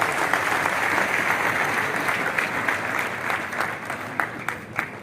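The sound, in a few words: audience applause at startup conclave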